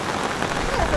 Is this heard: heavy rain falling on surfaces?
yes